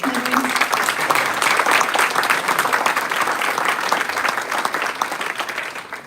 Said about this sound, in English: Let's give tonight's award winners one more round of applause.